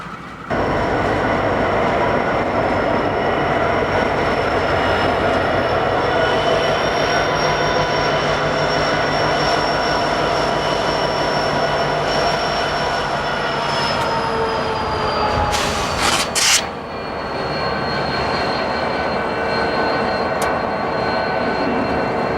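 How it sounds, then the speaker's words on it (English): A westbound unit coal train led by GE locomotives, including an AC4400, rumbles past steadily and loudly in Feather River Canyon, with engine drone, rolling wagons and a brief burst of wheel squeal near the end before the noise eases. "More GEs show up on the head end of a westbound unit coal train."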